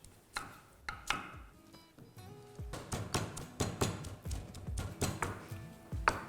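Green chillies are pounded in a mortar and pestle in an Indian home kitchen, giving a steady run of sharp, close knocks and thuds in an irregular rhythm, with no talking.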